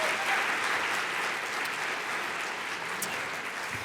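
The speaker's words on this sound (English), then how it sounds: "Let's give her one more round of applause" An audience at a university diversity forum gives a sustained round of applause, steady broadband clapping from many hands that fills the room throughout, loud and even with no voices over it.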